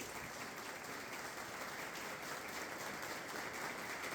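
An audience at a musical lecture in a spiritist group hall claps warmly, a steady, fairly distant patter of many hands that holds throughout without speech.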